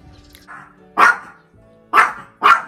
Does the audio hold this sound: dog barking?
yes